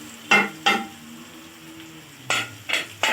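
Potatoes fried in a pan over a medium-low flame with black pepper and turmeric, a low steady sizzle broken by a few short stirring scrapes, no voices.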